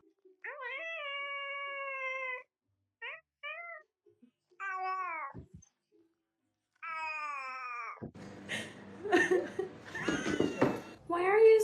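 A cat meows several times in drawn-out, wavering calls, loud and close, with short pauses between them; a person then talks and laughs over the last part.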